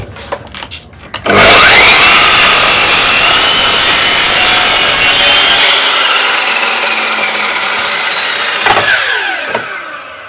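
A power saw rips through a plywood sheet for a simple wooden storage box, a loud continuous grinding cut of several seconds following a few short starts, then winding down with light knocks at the end.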